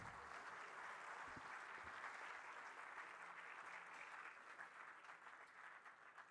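Sustained audience applause at a university convocation in Uttarakhand, a steady wash of many hands clapping from a large crowd, continuous for several seconds and slightly thinning toward the end, heard at a distance.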